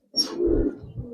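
Pigeons at a pigeon seller's, including a silver pigeon, give a short, soft, low coo that swells quickly and fades within about a second, close by with no talking.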